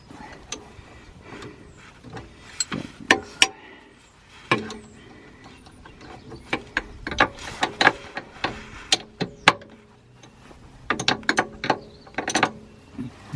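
A ratchet tightens the end link bolt on a Whiteline 24mm rear sway bar fitted to a 2008–2010 Subaru Impreza STI, with close, sharp clicking in irregular bursts and short pauses.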